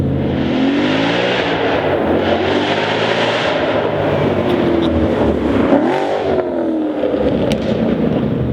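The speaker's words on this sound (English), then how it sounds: "The sound that this X-Pipe makes combined with my axle backs" A loud, deep V8 exhaust growl from a 2013 Mustang GT with an off-road X-pipe and axle-back exhaust rumbles continuously, rising and falling in pitch as the engine revs, close and powerful.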